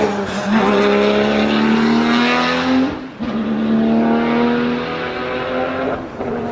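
A Porsche race car engine screams as it accelerates up the Pikes Peak hill climb, pitch climbing through gear changes with brief dips between, loud and receding slightly.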